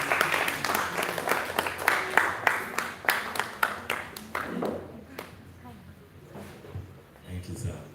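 Audience at a Shoma Christian Academy house event claps in a brisk, sharp burst of many hands that tapers into scattered claps, followed by voices and faint room noise.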